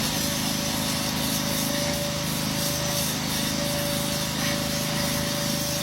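A power tool scrubs and grinds continuously against a building facade to clear fungus, a loud, steady abrasive whine with a faint tonal hum, close and unbroken.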